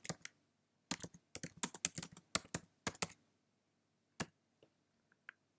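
Someone types a question on a computer keyboard in quick irregular bursts of crisp key clicks, close and fairly quiet, tapering to a few isolated taps.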